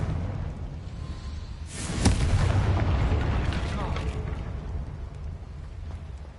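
A Confringo spell explosion in Hogwarts Legacy, a single heavy boom that swells and rumbles off slowly over a few seconds under a low background din.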